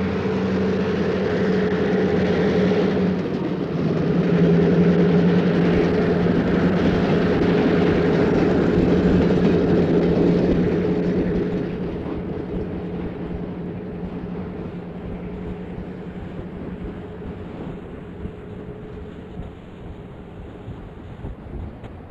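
A local freight train behind a lone GP9 locomotive, number 728, runs by, with a steady, heavy rumble and roar that gradually fades as it passes.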